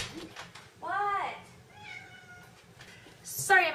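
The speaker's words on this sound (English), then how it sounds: "I have a cat scratching at the door" A house cat cries at a door with drawn-out, rising meows, close and moderately loud, followed by a sharper meow at the end. A person talks softly underneath.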